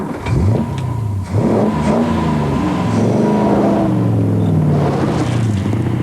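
The 2.5-litre Edward Turner V8 of a Daimler Dart SP250 sports car revs hard several times, its loud engine note rising and falling in repeated surges close by, with no talking.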